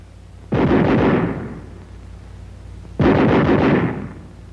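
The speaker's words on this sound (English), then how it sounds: "Weapons designed to give semi-automatic fire deliver only a single shot each time the trigger is squeezed." A semi-automatic small arm from a US Army training film fires two separate single shots about two and a half seconds apart. Each is loud and booming, with a decaying tail.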